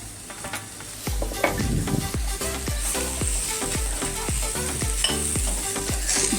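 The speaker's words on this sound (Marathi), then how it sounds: "तेलात थोडंसं मीठ होतं ना, त्यामुळे मिरची तळताना" Green chillies frying in oil salted with a pinch of salt: a steady sizzle runs underneath while a spoon stirs and clinks against the pan in a quick, regular rhythm, close and fairly loud.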